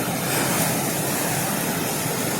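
Steady roar of sea surf crashing against rocks in a bay, throwing up spray and mist, a dense wash of water noise with no pauses, fairly loud and close.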